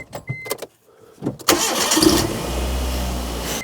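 After a few scattered clicks and knocks, a Proton Impian's engine cranks and catches at about halfway, then settles into a steady idle.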